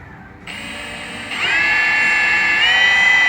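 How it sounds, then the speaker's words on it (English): A power drill whines steadily at high pitch, drilling the end of a crack in an aluminium alloy wheel, stepping up in speed twice and then holding a loud, continuous metallic drone. "drill the end of the crack."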